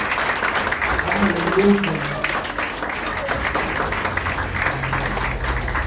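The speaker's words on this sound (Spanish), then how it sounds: "Denle un fuerte aplauso al Señor." Church congregation applauding during a Spanish-language evangelical service, a steady wash of clapping throughout with a voice briefly calling out over it.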